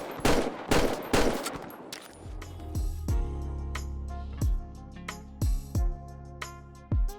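Video game GTA 5 gunfire from a realistic gun sounds mod: a loud rapid volley of shots, then spaced single booming reports over music.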